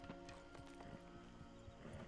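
Horse hooves clip-clopping at a steady walking rhythm in Red Dead Redemption 2, close and continuous over game music, with no talk.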